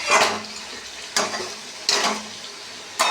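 A spice mixture (masala) is being cooked down in oil in a pan, heard as a soft sizzle broken by four sharp scraping stirs at uneven intervals, close and fairly quiet, with no talking.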